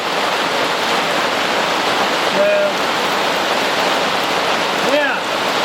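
Rainwater drains out of a boat's stern scuppers during steady rain, a constant broadband splashing and rushing wash that stays loud and even throughout, with brief faint chirps over it.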